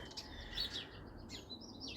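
Small birds chirp in a shady garden under a tree canopy, a few short, high tweets over a faint, quiet outdoor background.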